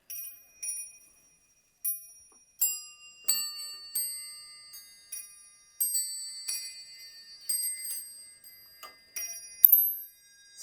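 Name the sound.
18th-century musical clock playing, designed for Marie Antoinette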